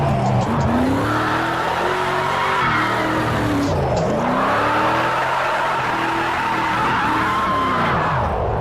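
Chelsea DeNofa's RTR Ford Mustang formula drift car in Project Cars 2 howls through a sustained drift, the engine revving up and down in sweeping waves over continuous loud tire squeal.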